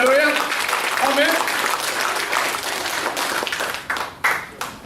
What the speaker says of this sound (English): can we give a clap offering to the Lord?